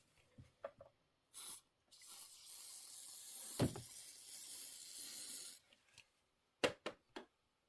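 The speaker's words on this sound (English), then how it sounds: "I'm going to give it a little shot of spray." A few short hissing bursts of a spray bottle misting fabric, with a longer steady hiss in the middle and quiet handling sounds between.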